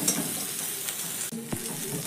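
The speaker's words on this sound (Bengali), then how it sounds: "সব কিছু খুব ভালো করে মশলা ভাজা হয়ে গেছে।" Spices and curry leaves fry in a pan, giving a steady, close sizzling hiss with a brief clink of stirring near the middle.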